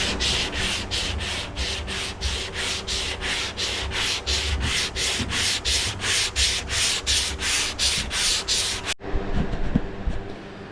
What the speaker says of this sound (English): Okay, got our fairing compound sanded down.